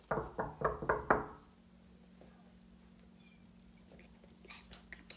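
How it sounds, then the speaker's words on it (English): Four quick knocks rap on a bedroom door, loud and close, followed by a low hum and quiet whispering. "Can I knock on the door?"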